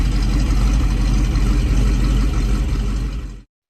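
A 2014 Chevrolet SS with its V8 engine idles in a steady, loud, low rumble that holds for over three seconds before cutting off abruptly.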